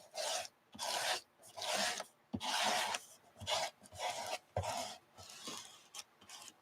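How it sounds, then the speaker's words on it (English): Teal paint scraped across paper with a flat tool, close and quiet, in repeated rasping strokes of roughly half a second each with short pauses between. "So let's scrape some of this pretty teal on here."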